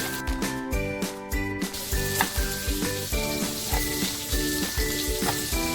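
Masala-stuffed eggplants frying in oil, a bright crackling sizzle beneath a steady pulsing rhythmic tone that repeats every half second or so, no voices.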